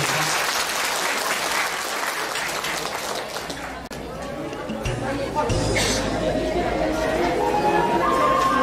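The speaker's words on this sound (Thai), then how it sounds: "ขอเสียงปรบมือต้อนรับพ่อกำปั่นบ้านแท่นของเราด้วยครับ" Audience at a Thai folk performance welcoming a singer for a visiting party leader, dense sustained clapping from a large crowd with a murmur of chatter, fading slightly midway and then swelling again as music begins underneath.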